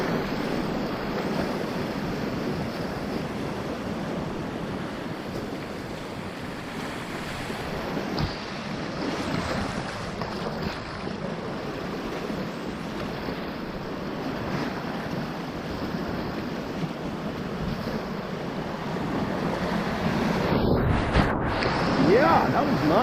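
A Zet Chili kayak paddled on open water, with steady splashing and swishing strokes against a constant wash of wind and surf close to the microphone, while a person talks over it.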